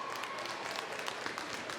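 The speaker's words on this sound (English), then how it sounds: "Both sets of fan bases standing up and applauding the teams for some great playoff hockey" Hockey fans of both teams at a high school boys' playoff game stand and applaud, making a steady, dense wash of clapping from a crowd in an arena, with no pauses.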